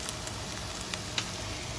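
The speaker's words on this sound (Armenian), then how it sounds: "ահա այսպես հերթով համեղ կոտլետները տապակում ենք մինչև սիրուն կարմրելը" Lenten lentil cutlets sizzle steadily in a frying pan, a dense, even crackle with a few sharper pops and no one talking.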